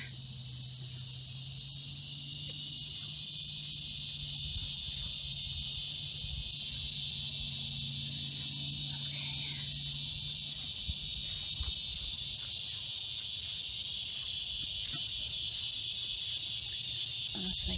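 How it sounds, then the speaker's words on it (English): Cicadas buzz at night in a cemetery, a steady, loud insect drone that continues without a break, with a low hum underneath. "Those cicadas are gonna drive me nuts."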